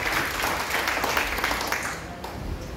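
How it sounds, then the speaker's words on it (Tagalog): A church congregation claps loudly during a worship service, a dense, sustained wash of applause from many hands that continues throughout and eases slightly toward the end. "pumalakpak ng malakas sa Panginoon"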